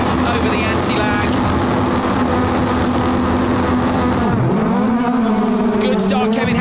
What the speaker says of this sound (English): Listen to that low rumble.